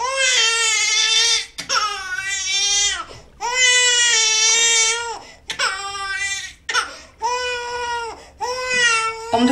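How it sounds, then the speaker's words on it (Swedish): A baby cries in loud, wailing bursts, several long sobbing cries separated by short gasping pauses, close and unaccompanied by other sounds. "Snälla, börja inte gråta nu."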